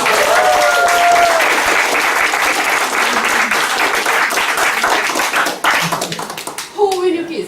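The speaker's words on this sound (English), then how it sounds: "Big applause." Loud, dense applause fills an award ceremony hall, with voices calling out over the sustained clapping before it breaks up into scattered claps near the end.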